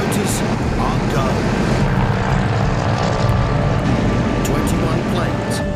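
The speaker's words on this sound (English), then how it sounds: "21 planes and 240 paratroopers take to the air" Douglas Dakota transport planes carrying paratroopers take off together, a heavy steady propeller-engine drone that holds evenly throughout while someone narrates over it.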